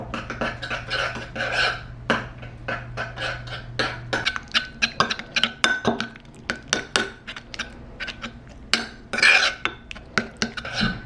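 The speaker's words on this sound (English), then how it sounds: "just keep mixing. This will eventually create a smooth paste" Miso and brown butter being mixed into a paste in a bowl, steady scraping and clinking of a utensil against the dish in quick irregular strokes, close and clear with no talk.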